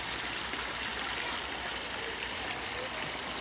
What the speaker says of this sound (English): we have the spill that goes over in there and oxygenates the water.